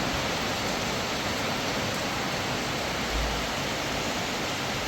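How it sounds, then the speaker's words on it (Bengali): Heavy rain falls outside in a constant, loud, dense wash of noise that stays even throughout, with no voices. "ওহ, যা বৃষ্টি হচ্ছে বন্ধুরা"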